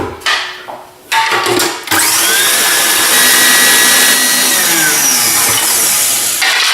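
A Magimix food processor with its egg whisk attachment runs at full speed on egg whites, starting with a few short bursts and then settling into a loud, steady high-pitched whir close by.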